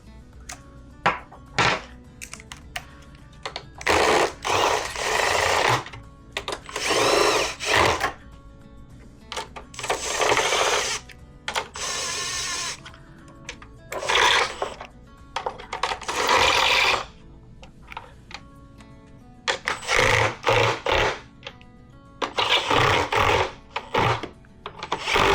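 A power tool tightens bolts while a NexPower V3 sodium-ion battery goes into a 2004 Gen2 Prius, running in a series of loud, whirring bursts of a second or two, separated by short quiet gaps.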